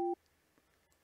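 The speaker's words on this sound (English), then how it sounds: "But Chris will be picking up in just a second." A telephone call tone sounds as a number is dialled: one short, clean electronic beep at the start, then near silence.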